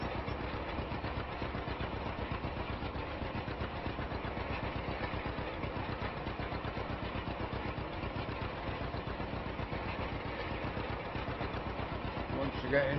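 Vintage John Deere A tractor from a farming simulator, its two-cylinder engine chugging steadily while rolling a wheat field, a constant rapid putter throughout with someone talking over it.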